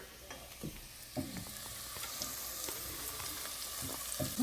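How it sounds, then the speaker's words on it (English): Flour is stirred into a pan of sautéing ingredients for chicken à la king, a faint, steady sizzle broken by soft scraping strokes of the spoon, close by with no voices. "3/4 cup of flour. We're going to add this right in here."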